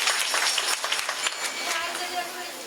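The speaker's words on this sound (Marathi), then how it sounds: "एकदा टाळी वाजा मस्त बाकी" Audience clapping at a Marathi kirtan devotional gathering, a brief burst of scattered hand claps close by, with crowd noise and voices mixed in.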